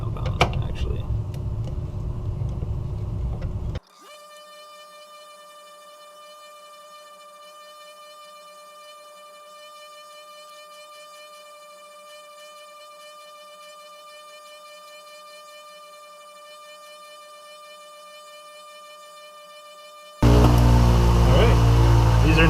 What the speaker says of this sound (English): I'll go ahead and switch back to the softer or smoother wheel and some polishing compound